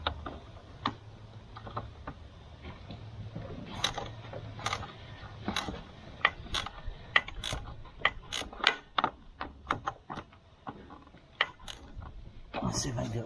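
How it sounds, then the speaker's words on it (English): Ratchet socket wrench working on an OBS Ford F350, quiet irregular bursts of sharp clicking and ticking between pauses, heard close with a low hum beneath. "Let's see if I can do it with a socket."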